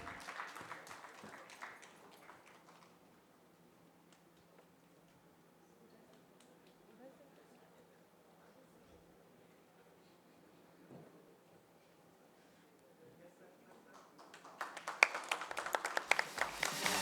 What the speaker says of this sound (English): Give a big round of applause for sir.